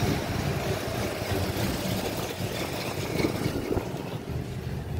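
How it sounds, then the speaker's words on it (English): A 1964 Ford Fairlane V8 engine idles on old, stale gasoline, giving a steady low rumble with a faint, even rhythm that holds at a constant level throughout, with no talking over it. "But here it is running."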